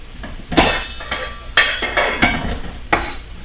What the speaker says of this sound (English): just throw all those onions in there